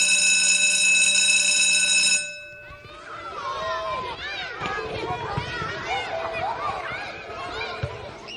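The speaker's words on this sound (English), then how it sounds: "Speaking of bells, I believe I hear one right now." A bell rings loudly and steadily for about two seconds, then cuts off, giving way to children shouting and playing on an elementary school playground.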